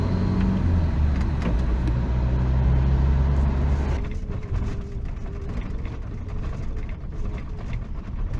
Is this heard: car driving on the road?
yes